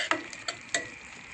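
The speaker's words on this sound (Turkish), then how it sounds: "Şimdi terbiyemizi döküyoruz. Ve karıştırıyoruz." A spoon stirs sauce into cooked sea holly greens in a pot, giving a few quiet scraping clicks and soft wet knocks spaced apart against a faint background, with no voices.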